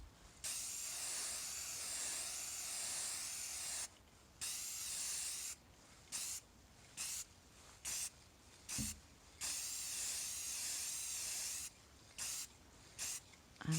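Spray paint hissing onto the edges of hardcover books in a series of bursts: several long sustained sprays, then shorter quick blasts separated by brief pauses, close and steady.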